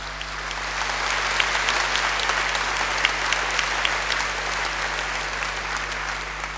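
A congregation at an ordination Mass applauds in a long, dense, even wave of clapping that holds steady from start to finish in a large space.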